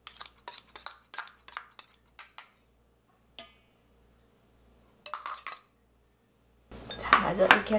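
Egg goes into a bowl of potato salad, with a run of quick metal-on-dish clinks and taps from a utensil, a pause, another short cluster of clinks, then a louder burst of handling noise.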